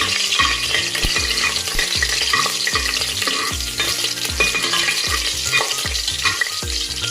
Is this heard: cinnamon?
yes